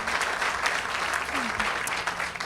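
An audience at a groundbreaking ceremony applauds a donation to Habitat for Humanity Central Arizona, steady crowd clapping throughout with no break.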